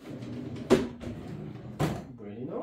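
IKEA Micke computer desk drawers sliding back into place, two distinct bumps with a short rumble as each drawer runs home, heard nearby under moderately loud room tone.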